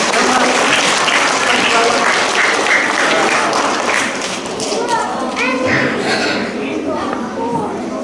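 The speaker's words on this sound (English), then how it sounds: "Can we have one more round of applause for Ella?" Pupils and staff at a school celebration assembly give a round of applause, loud clapping that fades after a few seconds into chatter, children's voices and scattered knocks.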